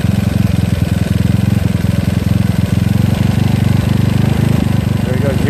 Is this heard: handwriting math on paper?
no